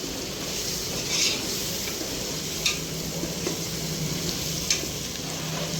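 Tomatoes fry in oil in a pan, giving a steady soft sizzle with a few faint ticks and clinks from the cookware.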